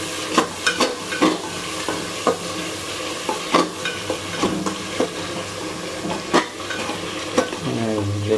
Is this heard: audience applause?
no